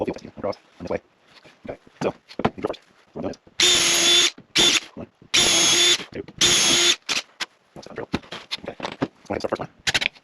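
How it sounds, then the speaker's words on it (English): A power drill boring holes into a jack block for skid steer maintenance, three loud sustained bursts of whirring drilling separated by short pauses, with clattering handling noises and brief knocks around them. "I'll screw or drill 3 holes for it"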